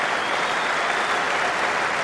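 A large crowd at The Oval in the 2005 Ashes Test claps for Justin Langer passing 7,000 Test runs, with a continuous broad wash of applause filling the stadium and no break.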